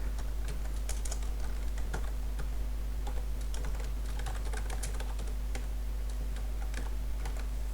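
Computer keyboard keys tap rapidly and steadily while HTML is entered in a PS Vita custom bubble tutorial, crisp and close over a constant low electrical hum, with no talk.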